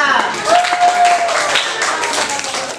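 A classroom group claps together in a steady burst of applause, with children's voices and cheering mixed in throughout.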